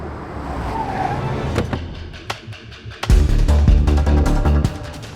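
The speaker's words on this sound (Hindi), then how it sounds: "आप लोग हट जाइए, गाड़ी आ रही है, प्लीज हटिए।" A car approaches on a street with a rising engine rumble and tire noise, growing loud and close near the end, with no talk.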